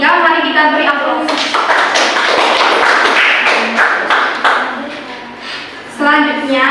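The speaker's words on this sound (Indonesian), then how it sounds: "Mari kita beri aplaus." Students in a classroom give a round of applause, a dense burst of clapping lasting a few seconds, framed by a teacher speaking just before and after.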